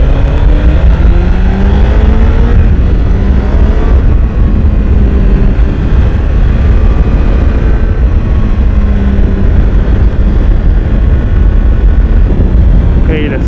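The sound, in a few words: Honda CBR1000RR SP 2016 motorcycle accelerating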